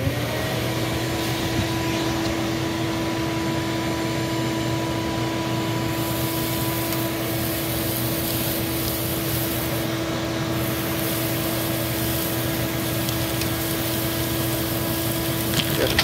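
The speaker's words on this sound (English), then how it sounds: "So I'm just gonna turn this on, turn the shop vac on." A shop vac running continuously through a two-stage dust separator on a 5-gallon bucket, sucking plywood and pine sawdust from a box, a loud steady whine and rush with occasional rattles of chunks going through.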